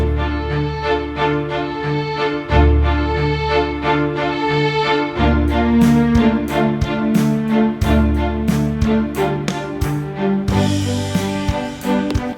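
Song playing back in GarageBand with the drums removed from the opening, layered sustained bass and keyboard-like tones moving through chord changes, steady and full, with some brighter percussive hits entering near the end.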